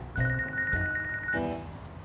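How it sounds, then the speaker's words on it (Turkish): A telephone rings once, a clear electronic ringtone with steady bright tones lasting just over a second, heard indoors at moderate volume over a low background hum. "Dur, telefon, telefon."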